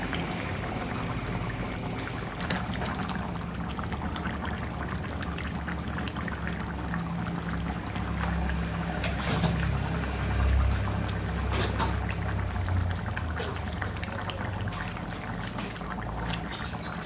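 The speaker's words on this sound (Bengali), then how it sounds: "তো লবণ দেওয়ার পর কিন্তু আমি আর একটু ফুটিয়ে নিয়েছি।" A pot of thin fish curry with cauliflower, potato and eggplant bubbles on a gas stove, a steady soft simmering hiss with scattered faint pops and gurgles throughout.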